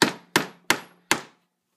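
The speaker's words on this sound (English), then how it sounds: "I'm going to hammer a nail into each corner of this plate" Hammer strikes driving a nail into a wooden plate, four sharp, close blows at a steady pace, each with a short woody ring.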